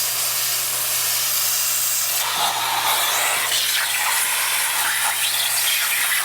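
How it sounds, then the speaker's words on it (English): A vacuum cleaner runs loudly with a harsh, steady rushing hiss and an underlying motor hum, close up and unbroken throughout. "all of these are kind of tuned for the other vacuum, the OG vacuum, so it gets kind of loud."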